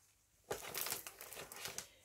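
Padded bubble envelopes crinkling and rustling as they are handled, a sudden close crackle followed by irregular soft crumpling over about a second and a half, quiet with no voices.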